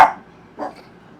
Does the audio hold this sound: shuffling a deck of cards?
no